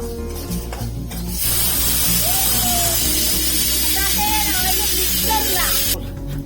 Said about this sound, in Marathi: हे मिक्सर लावायचं अजून हळू आता